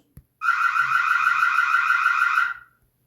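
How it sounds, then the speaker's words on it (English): Reolink Lumus Pro 4K Wi-Fi 6 security camera sounding its built-in audio alarm, a loud, steady electronic siren with a fast warble that runs for about two seconds and then stops, with no one talking. "Trigger audio alarm for a few seconds."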